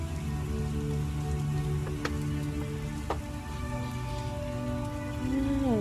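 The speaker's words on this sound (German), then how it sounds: "Es regnet schon wieder." Rain in the video game The Witcher patters steadily and softly under sustained in-game music tones, with a few brief sharp effects and no talking.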